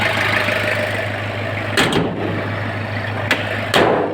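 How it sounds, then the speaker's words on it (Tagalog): A 2L diesel engine in a vehicle idles steadily with a low, even drone, joined by a few brief clanks and bumps from nearby handling. "2L ang makina ayan o"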